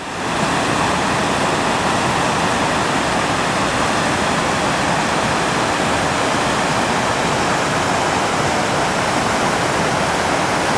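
A river in the Sierra Nevada wilderness, with fireweed along its banks, rushes steadily and loudly. The sound is a dense, unbroken broadband roar that holds level for the whole stretch, with no voices over it.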